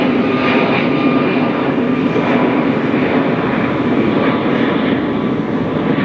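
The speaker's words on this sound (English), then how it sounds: "a great big loud plane, which always comes as soon as I start talking" A loud airplane passes overhead during an afternoon of carp fishing, its steady broadband engine roar filling the whole stretch without a break.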